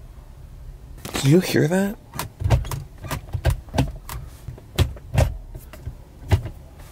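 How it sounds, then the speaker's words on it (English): Gear lever of a BMW E36 fitted with a Coolerworx self-centering shifter snapping back into neutral, a string of sharp mechanical clicks and clunks close up, with a voice speaking briefly beforehand. "I'm gonna bring it back to neutral. Just listen."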